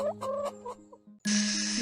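Cartoon hen clucking in short bursts, loud and close, ending in a sustained squawk, from an animated farm story about a hen, a fox and a monkey.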